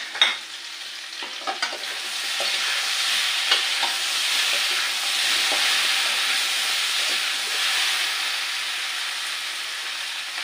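Plantain curry being sautéed in a pan gives a continuous close sizzle with light scraping taps of a spatula near the start, steady and unaccompanied.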